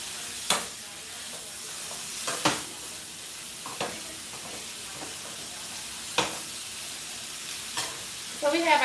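Ground meat sizzles steadily in a pan for taco salad while being broken up, with soft scraping strokes from a utensil recurring every second or two over the constant hiss.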